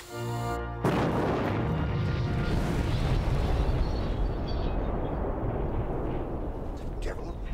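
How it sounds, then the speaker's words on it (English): A sudden loud explosion bursts after a short stretch of music, then rumbles and roars on as a sustained dense wash of debris and noise, slowly fading. "There's been some sort of explosion."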